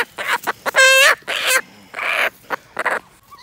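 A chicken being herded and chased, giving loud close squawks and sharp clucks in quick irregular bursts, with one drawn-out cackling cry near the start.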